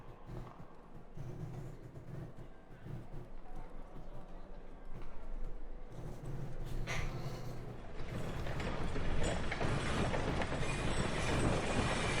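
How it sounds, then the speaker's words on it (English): Trains roll past a wharf-side street in a Victorian London Jack the Ripper game, a steady rumbling clatter that swells and grows louder in the second half, with a voice talking over the start. "Trains going by."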